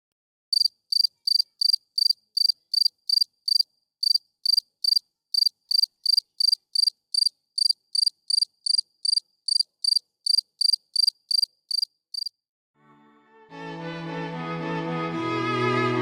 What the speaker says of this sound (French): dans l'âtre, un grillon qui chante.